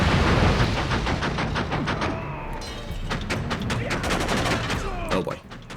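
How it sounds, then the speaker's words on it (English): A nail gun firing in the action game Jet Li: Rise To Honor, a quick series of sharp close shots in a steady rapid rhythm over a busy game soundscape. "there are a lot of nails in this nail gun"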